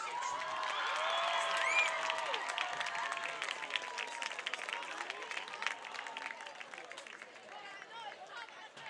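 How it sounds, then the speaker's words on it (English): Applause and cheering from a crowd at a high school varsity football game, greeting the marching band seniors, with a lot of babble and voices mixed in. It stays fairly steady throughout and fades slightly toward the end. "please give a round of applause for all of our marching band seniors"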